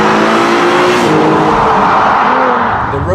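A Mercedes C-Class Coupé engine revs loudly and steadily, pulling hard with a rising whine as it accelerates out of a curve on an Andalusian road, close and continuous with no voices.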